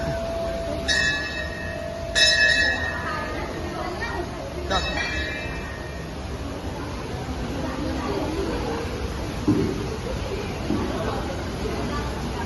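A temple bell rings out in a few separate bright strikes early on, then fades, amid a murmur of voices and background bustle at Kondeshwar Temple, Badlapur.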